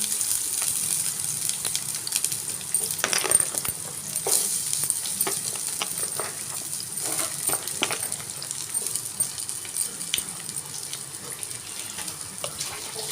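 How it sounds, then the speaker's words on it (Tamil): Onions sizzle and fry steadily in a kadai, a constant hissing crackle with occasional stirring scrapes and clinks, close and moderately loud with no talking. "அடுத்ததான் அதே கடாயில் நான் வெங்காயத்தை போட்டுக்கிறேங்க"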